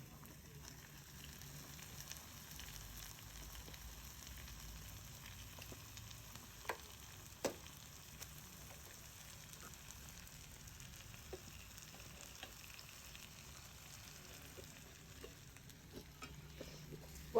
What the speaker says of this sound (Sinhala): සාමාන්‍යයෙන් යන්තම් බැද ගන්න